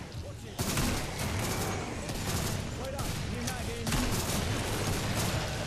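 Dense, continuous gunfire in Killing Floor against zombies, a loud barrage of overlapping shots with booming impacts that carries on without a break, with a voice speaking over it.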